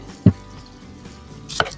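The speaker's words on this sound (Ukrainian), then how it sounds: "візьмемо для засмажки цибульку та моркву та наріжемо її" Two sharp knife strokes on a cutting board, chopping onion and carrot, close by, spaced apart against a quiet background.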